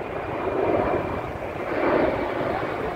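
Boeing 767 jet airliner in LATAM livery with steady, broad engine roar at moderate distance, swelling slightly near the end, with no talk.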